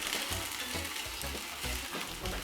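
Bread rolls toasting in butter in a pan for chicken vegetable bread rolls give a steady, close, soft sizzle with faint crackles, heard alone without talk.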